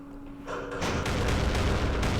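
Airstrike explosions in the wargame Campaign Series East Front, at Kursk: a quiet hum gives way to a dense, rumbling run of booms and blasts that swells and stays loud to the end.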